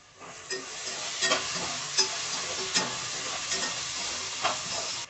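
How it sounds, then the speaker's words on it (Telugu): Tomato pieces sizzle in a hot pan as a spoon stirs them, a steady frying hiss broken by several soft scraping strokes, close and fairly loud with no talk. "ఈ టమోటా ముక్కలు కూడా సాఫ్ట్గా కుక్ అవ్వాలండి. ఒకసారి మిక్స్ చేసుకోండి."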